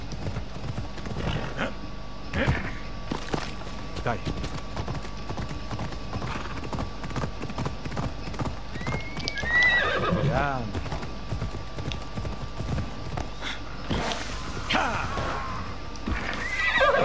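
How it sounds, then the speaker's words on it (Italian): Horse hooves clip-clop at a gallop in Assassin's Creed Odyssey, a rapid steady pounding throughout, with a couple of neighs and game sound effects mixed in, while someone talks over the action. "E vai questo cavallo che salta ovunque."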